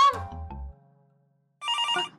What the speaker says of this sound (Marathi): बाबांचा फोन असेल.